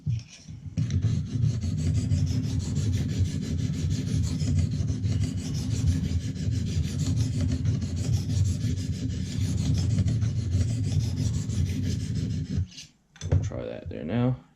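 A knife blade is drawn repeatedly across a Lansky medium diamond sharpening stone, making a continuous close rasping scrape for most of the stretch before it stops briefly and starts again.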